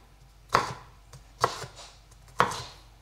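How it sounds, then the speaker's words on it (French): Three sharp knife chops on a cutting board, evenly spaced about a second apart, as strips of bell pepper are cut into small cubes; crisp and close with no talking. "Et là, je coupe à nouveau."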